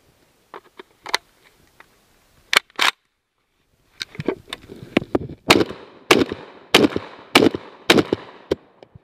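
A Saiga 12 shotgun fires in sharp, loud, separate blasts, a few scattered shots and then a quicker run of reports, each one ringing out briefly, with no voices.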